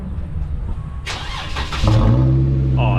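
A Jeep with its muffler cut off cranks over briefly and fires, settling into a loud, deep, raw idle close by, with no one talking.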